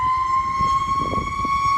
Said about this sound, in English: let that ambulance pass.